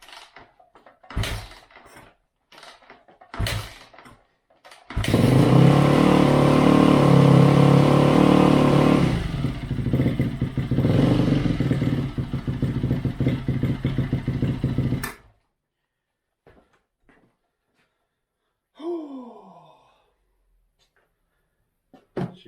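A 2012 Yamaha YZ250F dirt bike after an engine rebuild fires up following a few cranking attempts, then runs loud and close for about ten seconds with uneven revving before cutting off abruptly; faint sounds follow.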